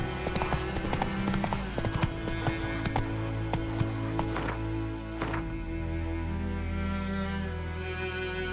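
Roach the horse gallops in The Witcher 3 video game, with rhythmic clip-clop hoofbeats pounding steadily and close over a constant game soundscape of music and ambience.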